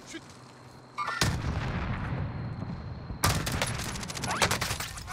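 Heavy gunfire in the Warzone video game comes as dense bursts of rapid shots and booming reports, loud and sustained with a sharp new volley partway through, and no speech over it.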